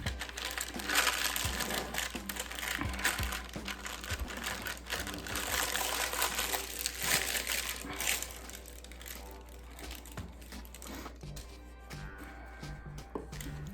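Regular parchment paper being handled for a loaf of sour sourdough, crinkling and rustling steadily and close by, with a denser stretch early on that thins out toward the end.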